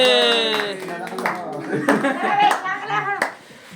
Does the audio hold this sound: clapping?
yes